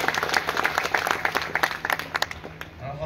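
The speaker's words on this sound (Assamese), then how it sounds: "তাৰ কাৰণে এটা সকলোৰে ফালৰ পৰা এটা সুন্দৰ হাত চাপৰি বিচাৰিছো।" An audience in a college auditorium claps for a cultural program, with a short burst of scattered, fairly close applause that fades after a few seconds.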